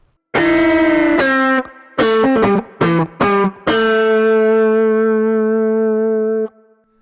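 Synthetic MIDI guitar notes with sharp, loud plucked pick attacks, a few held and several quick short ones, ending on a long sustained note that rings out.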